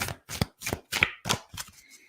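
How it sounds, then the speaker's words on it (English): A deck of oracle cards shuffled by hand in about seven short, evenly spaced bursts, each a crisp papery riffle or slap, close and quiet with nothing else heard. "Just do a few more shuffles here."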